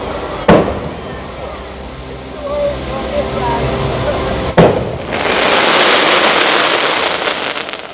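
Fireworks burst over the Disney World castle with two sharp, loud bangs several seconds apart, followed by dense crackling and rumbling that continues, while crowd voices murmur in the background.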